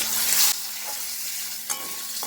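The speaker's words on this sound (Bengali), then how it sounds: "সব কিছু একসাথে একটু ভেজে নেব" Ground turmeric, chili, cumin, black pepper and coriander powder fry together in a pan for a cauliflower dish. The loud, bright sizzle drops off suddenly, then flares again in a short burst.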